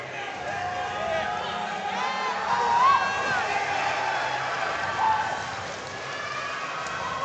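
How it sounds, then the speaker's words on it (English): A crowd at a fight awaits the judges' decision, a steady murmuring roar with scattered whistles and shouts, moderately loud and continuous throughout. "the crowd is excited for the decision"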